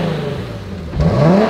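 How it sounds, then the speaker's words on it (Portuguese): A Nissan 370Z with its stock exhaust idles with a low, steady rumble, then revs up sharply as the pitch climbs, heard close to the tailpipe. "Filma ali o escape pra ver se faz barulho, eu vou acelerar."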